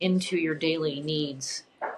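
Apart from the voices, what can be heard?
None of the usual background noises is heard.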